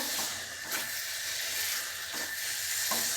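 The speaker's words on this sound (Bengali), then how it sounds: "আমি এক চামচই দিলাম দিয়ে আবারও কষিয়ে নেবো" Curry with a spoonful of sugar sizzles steadily in a pan, a continuous hiss broken by a few soft stirring scrapes, close and fairly quiet with no talking.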